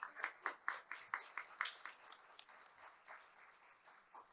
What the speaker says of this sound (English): Please give everyone a warm round of applause.